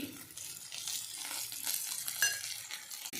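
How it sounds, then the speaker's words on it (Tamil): Curry leaves, cumin and coriander sauté in a pan for peanut chutney, producing a soft, steady sizzle with light stirring, fairly quiet and without voices. "கருவேப்பிலை இதை எல்லாத்தையும் சேர்த்து நல்லா வதக்கிக்கலாம்"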